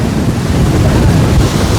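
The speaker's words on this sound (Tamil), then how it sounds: "தண்ணி அடிச்சு இன்னும் கரையை வந்துட்டு இருக்கு" Waves wash onto a shore in a loud, continuous roar mixed with heavy wind buffeting the microphone, close and unbroken with no voices.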